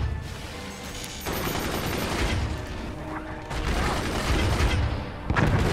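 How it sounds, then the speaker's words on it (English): Mortar fire in the video game Forts: a dense, continuous barrage of booming launches and impacts that rumbles and swells in waves, with a sharper burst near the end and no voices. "We're gonna do this with mortars."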